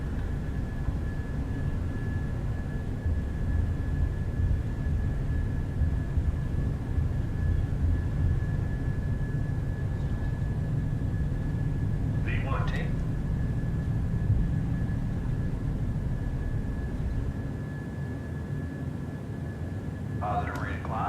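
Boeing 737 engines of an airberlin flight in a flight simulator hold takeoff thrust, a steady low roaring drone with a faint constant whine, continuing under voices speaking.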